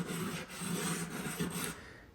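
A grout float scrapes excess cement off freshly set kitchen backsplash tile, making a steady, dry rasping rub that continues close and moderately quiet, with no voices.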